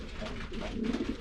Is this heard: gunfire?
no